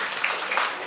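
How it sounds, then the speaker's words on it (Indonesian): Students in a physics classroom clap their hands together in a short, busy burst of applause from nearby. "tepuk tangan semua ya."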